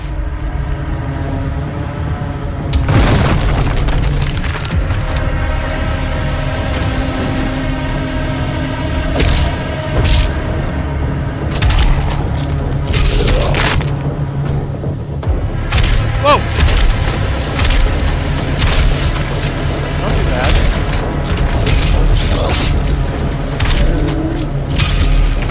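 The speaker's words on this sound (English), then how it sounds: "Now I have a grenade launcher." Grenade launcher explosions go off in the video game Doom Eternal. Loud, repeated booms and thuds land in irregular bursts over dense, continuous combat noise throughout.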